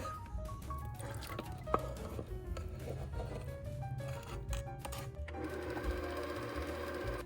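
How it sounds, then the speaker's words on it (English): Electric mixer beating vanilla cake batter with buttermilk, flour and vanilla extract, a faint steady motor whir with soft squishing and clicking, shifting in tone near the end, with no talking. "and we'll continue mixing"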